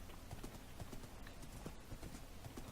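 Horse hooves clip-clop in steady, fairly quick rhythm in Minecraft, the repeated blocky footfalls moderately loud and close, with no talking over them.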